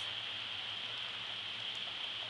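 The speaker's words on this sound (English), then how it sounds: "we are having like a super like rainstorm thing going on" Heavy rain pouring during a September storm in Eureka, California, with water flooding the street, a steady dense hiss that stays even and unbroken throughout.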